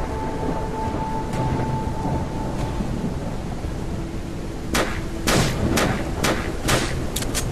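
Gunfire in the VR game Stellar Plans: after a stretch of low rumbling ambience, a burst of sharp, loud shots starts partway through and rings out several times in quick, uneven succession.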